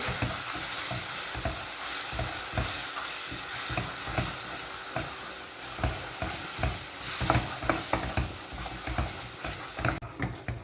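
Nendran banana pieces sautéing in a pan, with a steady frying sizzle under repeated stirring scrapes and clinks, close and continuous.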